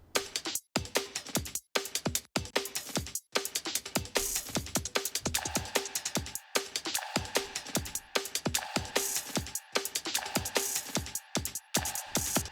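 Crisp hi-hats ride over chopped drum breaks with kicks and snares, a busy, steady groove with short gaps where the breaks cut out, compressed and low-end filtered, from a dance-music production playthrough.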